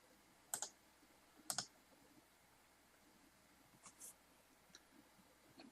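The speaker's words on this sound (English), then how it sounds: "Right click." Two crisp double clicks of a computer mouse right-click near the start, followed by a few fainter clicks later, quiet and close against low room hiss during an SCCM 1806 to 1810 upgrade on a PC.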